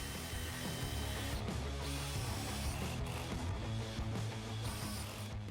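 A jigsaw mounted under a small workshop table runs during a test, giving a continuous buzzing motor drone with rapid rhythmic blade chatter at a steady, moderate level.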